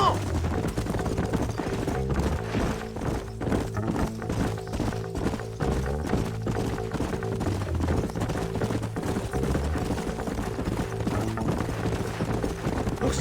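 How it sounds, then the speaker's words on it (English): Horses gallop in Red Dead Redemption 2, a loud, steady drumming of hooves that runs continuously under what sounds like background music and faint voices. "Let's hold up a minute and find a spot for our horses."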